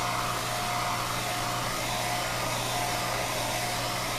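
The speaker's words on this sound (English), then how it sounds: "Always good if you've got a nice hairdryer." A hair dryer blows a steady, loud, unbroken whoosh with a constant motor hum, used to dry model aircraft wheels and tyres at home.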